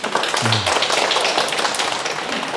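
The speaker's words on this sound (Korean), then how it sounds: "아주 좋은 질문인데 박수 한번 치세요." Lecture attendees clap together in a dense, steady burst of many hands that is fairly loud and close, with a brief low murmur near the start.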